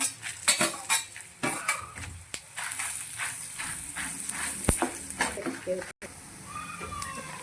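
Cinnamon, cloves and fennel roasting with cumin, coriander and black pepper in a pan for Mangalorean egg sukka, heard as clinking ladle scrapes and stirring clatter over a faint sizzle, with a voice speaking throughout.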